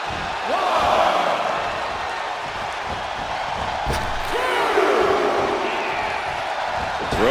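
A wrestling arena crowd in the video game WWE 2K25 roars as a loud continuous wash of cheering, with a few whoops rising out of it and a single thud partway through.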